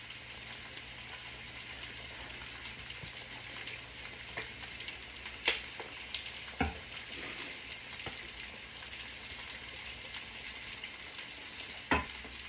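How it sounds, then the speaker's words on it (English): Pineapple chicken sauce being stirred in a pan gives a steady low sizzle with soft scraping, and a few sharp utensil clicks stand out over the simmer. "Now we're going to stir this up"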